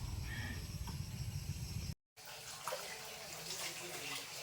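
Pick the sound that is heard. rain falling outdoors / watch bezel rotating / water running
water running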